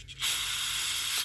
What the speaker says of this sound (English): You can also spray some carb cleaner